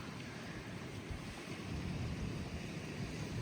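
Continuous rushing surf of Atlantic waves at Praia da Lagoa de Albufeira beach, Portugal, with a steady wind-like roar, no voices present.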